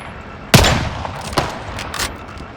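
Rifle gunfire in Call of Duty Warzone: one loud, sharp shot opens the burst, followed by a second crack and a few fainter reports further off, with no talk over them.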